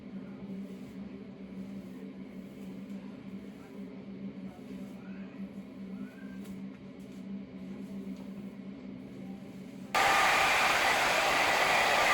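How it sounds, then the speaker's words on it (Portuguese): A hair dryer blows hair dry indoors as a steady, loud broadband whoosh with a low motor hum, running for about ten seconds before the airflow surges noticeably louder near the end. "E vou secar meu cabelo."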